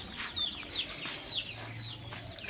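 A hen clucks softly at close range, giving a string of short, uneven clucks with a few thin high chirps over a low background murmur.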